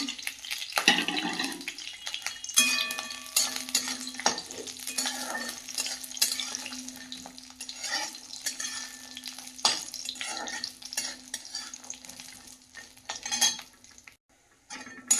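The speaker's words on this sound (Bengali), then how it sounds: "এখানে ডালের বড়ি নিয়েছি ভেজে নেব" Lentil dumplings (dal bori) frying in a little oil in a kadai, giving a steady close sizzle with repeated scraping and clinking of a utensil against the pan throughout.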